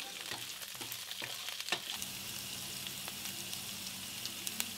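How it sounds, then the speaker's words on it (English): Pounded ginger and chopped chives fry in a pan as they are gently stirred: a soft, continuous sizzle with several spatula taps and scrapes near the start, fairly quiet and without voices. "Add your roughly pounded ginger and finely chopped chives. Gently stir and cook it for a minute."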